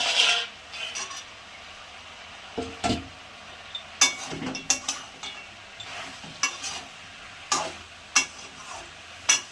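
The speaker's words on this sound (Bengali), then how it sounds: "আর একটু নাড়াচাড়া দিয়ে দেবো" A spoon stirs greens, green chillies and lentil dumplings in a pan, making repeated sharp clicks and scrapes against the metal over a soft, low sizzle in a quiet home kitchen.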